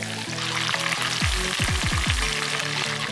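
Spring chicken frying steadily in hot oil, a dense continuous sizzle with a few sliding scrape-like sweeps midway as the pieces are turned over; no one speaks.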